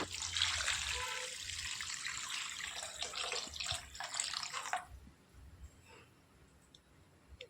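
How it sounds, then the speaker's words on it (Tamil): Steady rushing stream of water pouring into a pot for several seconds, then it stops, leaving faint drips and quiet background. "தண்ணி சேர்த்துக்கிட்டாச்சு."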